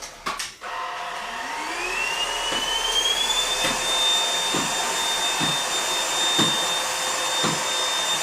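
Dibea M500 cordless vacuum cleaner running steadily at close range, a loud continuous whine with a rising pitch, rhythmic faint thumps as it moves across the floor, no voices.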